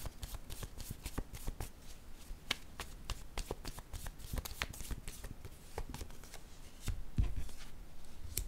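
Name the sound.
shuffling tarot cards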